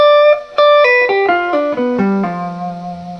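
A single sustained chord on an electric instrument, its notes struck one after another from high to low in a cascading arpeggio, ringing together and fading.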